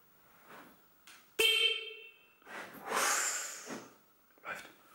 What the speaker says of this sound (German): wir testen es einfach mal, ob die Hupe bereits geht, ohne dass der Motor läuft